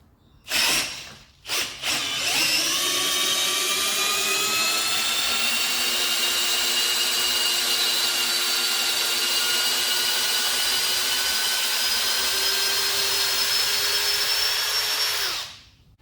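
An Ozito 18V brushless hammer drill in low gear drives a screw: a short burst, then a steady whining motor run for about thirteen seconds before it stops, loud and close with no talking.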